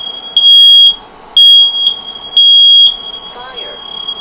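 Piercing, loud smoke alarm beeps in a triple pattern of three long tones, indoors in a smoky room, followed by a short quieter chirp.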